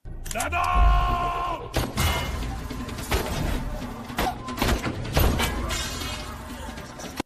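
Bursts of gunfire mixed with crashing and shattering sounds, loud and chaotic, in a dramatic action scene from the 2021 film The Power.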